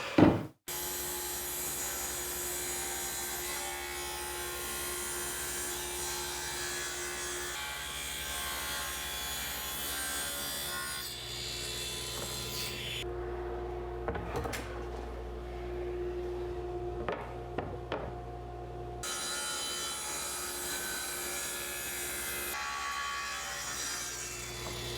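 A saw cuts dense white oak fed against a fence, giving a steady loud whine and grinding rush that holds for the whole stretch, with a sharp knock at the start and a lighter, changing tone midway.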